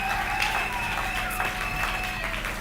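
A church congregation claps and cheers for the Lord during a French-language sermon, a steady wash of applause with scattered voices and a sustained tone underneath.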